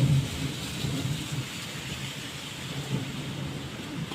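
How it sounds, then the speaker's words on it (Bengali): Steady rain hisses throughout while low thunder rumbles faintly in the distance, with swells near the start and around the middle. "কি বাজ পড়ছে"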